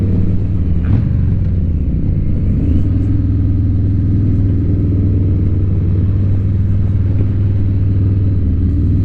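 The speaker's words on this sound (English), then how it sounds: "there's a car coming" A car approaches on a winding mountain road, heard from a Harley-Davidson Street Bob; a steady loud engine rumble fills the whole stretch, with a faint rising swell as the vehicle draws near.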